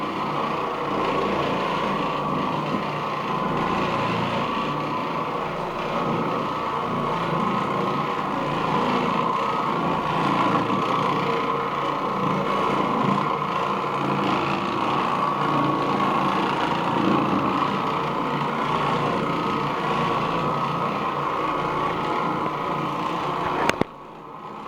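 An Oreck Orbiter floor machine runs with a steady mid-pitched motor whir and scrubbing hum, continuous and close for about twenty-four seconds before a sharp knock near the end.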